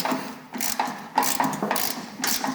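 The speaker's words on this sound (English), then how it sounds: "Just come in here and take and loosen this bolt up." A hand ratchet loosens a bolt on a MUSKOX 26-84 snowblower during glide plate wheel replacement, giving several short bursts of quick metallic clicking separated by brief pauses, close and clear with no talking.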